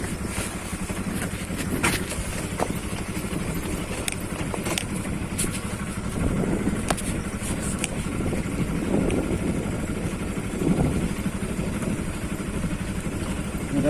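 A scooter and motorcycles idling on a dirt off-road track in Nepal, giving a steady close engine hum with faint revs and clatter throughout.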